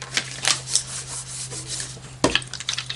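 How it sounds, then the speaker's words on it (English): Tape being run and pressed onto a craft card, soft rubbing and smoothing strokes in short uneven bursts, with a sharper rip or press near the end, no talking. "Run a bunch of tape on it."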